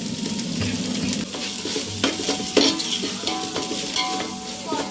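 Gongura chicken biryani masala is stirred in a pot, giving continuous close sizzling and frying with scraping strokes and occasional sharper clinks from the spoon, and no voices.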